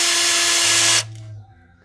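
A power drill drives a 1/4 inch self-drilling screw into the rear main seal of a 2007-2014 Honda Fit, a loud steady whine for about a second that cuts off abruptly, then fades into low rumbling.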